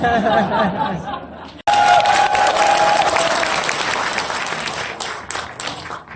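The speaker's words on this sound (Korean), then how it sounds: "왜 저한테 박수 치세요?" Audience applause at a book launch event for a politician, starting after a short burst of crowd chatter, then swelling into loud, dense clapping that gradually thins out, with laughter and chatter mixed in.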